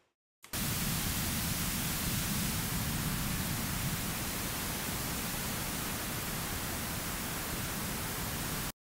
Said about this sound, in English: sounds kind of like pink noise.